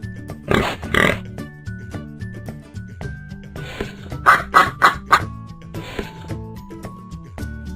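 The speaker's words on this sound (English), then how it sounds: "Pig." A pig grunts and oinks in several separate bursts, including a quick run of short snorty grunts in the middle, fairly close and clear with no talking.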